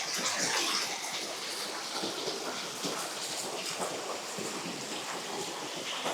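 Continuous rushing splash of a waterfall pouring over rocks in a primeval forest valley in Hongcheon, Gangwon, a dense, steady roar of falling water heard close by, with no voices.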